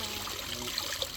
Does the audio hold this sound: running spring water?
yes